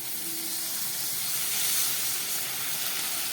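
Coconut milk hits a hot pan of fried cashew-poppy paste for potol malaikari, giving a steady, close hiss and sizzle that swells slightly midway and holds throughout.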